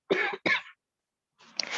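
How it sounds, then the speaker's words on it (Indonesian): Two sharp coughs in quick succession, followed by a pause and then a rougher, breathy throat-clearing cough. "Maaf saya batuk dulu"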